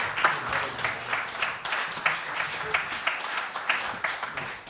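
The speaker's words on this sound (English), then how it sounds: "now let's see if the applause holds up" An audience at a live event in Kirkwall applauds, with a moderate spread of scattered hand claps that rise and fall in small bursts from a middling distance.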